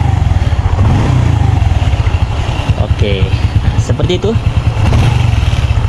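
Honda Revo FI motorcycle engine, freshly rebuilt with a deeper exhaust note, running steadily and close by with throttle blips, while someone talks over it throughout.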